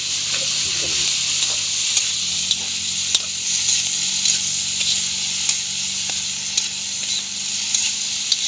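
Tomatoes stirred in a hot frying pan for a quick Ilocano dish: steady, loud sizzling hiss throughout, with light regular scrapes and taps of a utensil against the pan.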